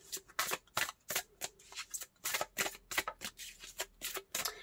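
Tarot cards riffled and shuffled by hand at close range, a quick run of crisp, papery bursts in an uneven rhythm, with no talk over them.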